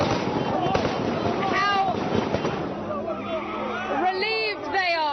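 Celebratory gunfire in Tripoli, Libya crackles in rapid, irregular bursts amid crowd noise and wind buffeting, with someone speaking and voices shouting over it.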